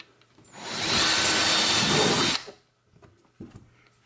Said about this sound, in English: So let's go ahead and drill the holes.